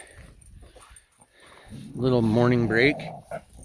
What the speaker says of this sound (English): Dogs are running around getting their